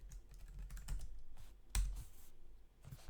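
A password being typed on a computer keyboard, a quick irregular run of soft key clicks with one sharper tap, faint and close in a quiet room.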